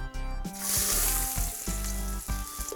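Chopped onion sizzles in hot oil in a pot over medium heat, a loud steady frying hiss with a low hum beneath and brief scraping stirs.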